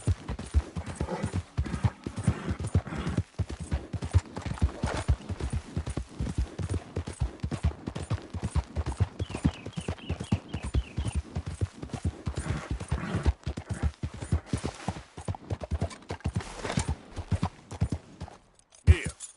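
A horse gallops in Red Dead Redemption 2, with rapid rhythmic hoofbeats pounding close and loud without letup and a brief whinny partway through.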